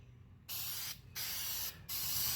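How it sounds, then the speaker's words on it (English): Primer sprayed from an aerosol can with a rotating fan nozzle, heard as three loud close hissing bursts separated by short pauses. "Now let's change the way the nozzle's aimed and we'll try it another way."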